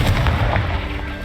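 A Confringo spell explodes in the video game Hogwarts Legacy, a single heavy, rumbling blast with a booming crackle that fills the moment and fades slightly.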